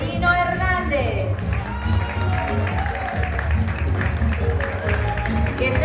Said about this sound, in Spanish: Que se oigan esos aplausos